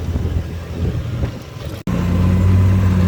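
A Pagani Huayra BC Roadster supercar rolls up with a wind-buffeted rumble, then settles into a steady, low, close engine drone after a brief break.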